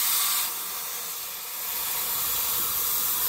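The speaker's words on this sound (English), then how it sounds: "quite a lot of steam gets by it even when it's stopped" Steam from a Donkin steering engine hisses steadily past its closed valve, a continuous broadband rush that holds close and loud throughout, with no talking.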